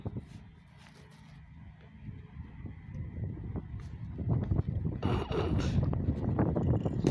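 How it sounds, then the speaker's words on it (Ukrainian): Video game wind noise, gusty, rises and swells steadily, growing louder toward the end, with faint creaks and rumbling underneath. "О боже, вітер почався."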